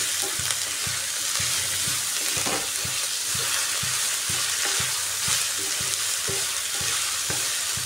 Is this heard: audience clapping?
no